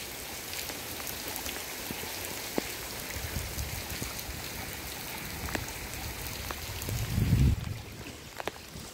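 Heavy rain pours down in a continuous dense hiss, with scattered sharper drips and a low rumble swelling briefly near the end.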